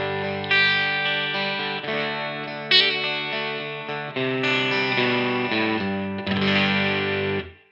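An electric guitar played through an MXR Hybrid Fuzz pedal at a fairly clean setting rings out in sustained, lightly gritty chords, each strummed and held before the next, loud and steady with no talking.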